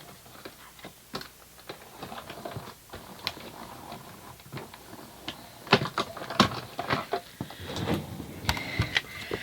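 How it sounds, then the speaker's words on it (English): A cut and emboss machine feeding a sheet of card through for a scrapbook mini album insert, giving close, quiet mechanical clicking and whirring with intermittent sharp clacks that grow louder toward the end, with no talk. "So pop that through my cut and emboss,"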